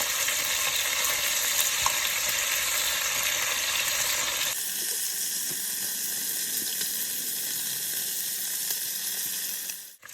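Chicken pieces seasoned with salt and pepper fry in a pan with a loud, dense sizzle that drops to a quieter, steadier crackle partway through.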